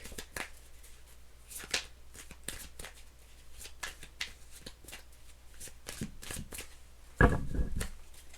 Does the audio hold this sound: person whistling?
no